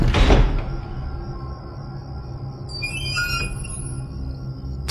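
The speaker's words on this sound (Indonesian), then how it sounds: "terdengar suara pintu dibuka tutup" A door in a radio drama opening and closing by itself, with a knock-like thud at the start, a low creaky rumble, and squeaky high tones over a soft background drone.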